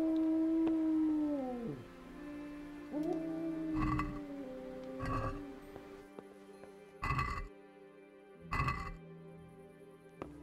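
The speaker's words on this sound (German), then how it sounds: "Köter, Mensch, das soll doch nicht immer die Leute aufwecken" A dog howling in the video game Kingdom Come Deliverance, a long wavering howl that slides downward and then rises again, over game ambience with a few short bursts of other sound.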